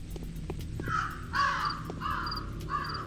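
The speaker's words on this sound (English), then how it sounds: "Shut up, crows." Crows caw in the video game Pathologic HD, four hoarse calls spaced about half a second apart, fairly close, over a low ambient drone and faint insect-like chirping.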